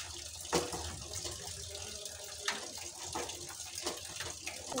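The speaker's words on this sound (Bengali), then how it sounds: "আর একটু জল দিয়ে দেব।" Water poured into batter for a fish chop, with a soft continuous trickle and a few light splashes up close.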